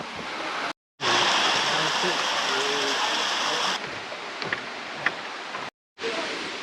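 Rushing water of a waterfall in a canyon at Tatlıca Waterfalls, Erfelek, Sinop, a steady broadband roar filling most of the clip, cut by two short silent gaps and easing toward the end.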